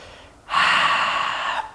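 A single deep, audible breath is drawn in during a yoga flow in a low lunge, a soft airy rush that swells suddenly and holds briefly.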